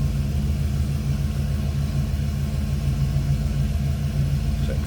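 The engine of a 1972 Oldsmobile Cutlass Supreme runs at a steady idle, a close, even low rumble that holds unchanged throughout with no voices.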